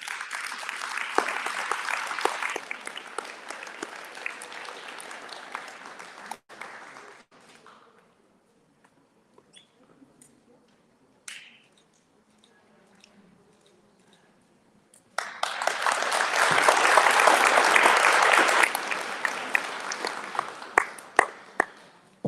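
Audience applause at a district community event, a loud burst of clapping fading into near quiet with a few stray claps, then a second strong round of applause swelling up and carrying through to the end.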